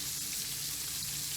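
Minced meat sizzling in a hot pan in a kitchen, a dense continuous hiss of frying, close and steady throughout with no talk.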